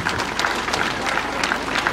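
Applause at a cocoa initiative event honoring industry partners Cargill and Hershey, steady crowd clapping with a low hum beneath and faint voices mixed in.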